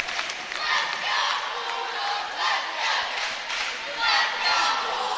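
Formidable home crowd for the Queen City Lady Bulldogs in a bowl-shaped high school gym in Hallsville, Texas, at a volleyball playoff, roaring and cheering in surging waves with shouts and some clapping.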